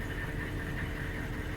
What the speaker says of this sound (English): The engine's running